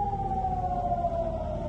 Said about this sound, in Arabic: مرات عديدة دوت صفارات الإنذار في مستوطنات